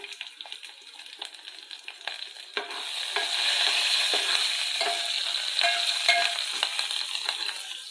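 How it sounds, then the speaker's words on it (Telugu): Steady crackling sizzle of tempering spices frying in hot oil for lentil soup, growing louder and denser after a few seconds, with scattered sharp pops and occasional stirring clinks. "మన పోపు మసాలా చక్కగా ఫ్రై అయిపోయిందండి"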